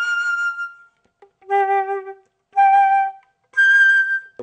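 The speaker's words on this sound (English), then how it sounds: "I blow a little harder, lifting up this key" Flute notes played in short sustained tones, each breathy and pure, stepping upward as the player blows harder and lifts the A key, with brief silences between four notes.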